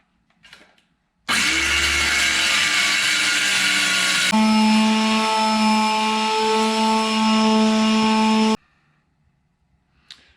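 A power saw cuts a 1/2 inch plywood board to size for a Dodge Ram 1500 top shelf, whining loudly and steadily for about seven seconds as the tone shifts midway, starting and stopping abruptly, close by with no voices.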